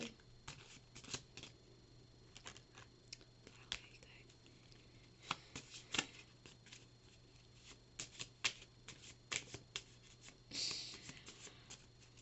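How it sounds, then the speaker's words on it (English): Tarot cards are shuffled with repeated soft riffling and tapping bursts over a quiet hum, close by. "I'll shuffle on camera"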